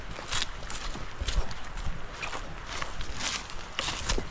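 A horse walks on a farm during an eggplant and rice harvest, its hooves clip-clopping in a steady, faint rhythm with outdoor background noise and no talking.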